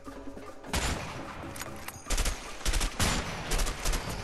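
Gunfire in the video game A Way Out, several loud sharp shots and short rapid bursts in quick succession, close and prominent.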